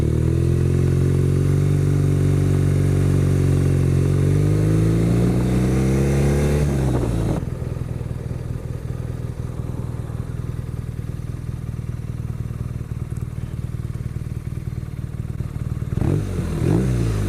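BMW R nineT Racer motorcycle ridden slowly, its engine note rising and shifting before settling into a steady low rumble mixed with wind noise, close and continuous, with no talking.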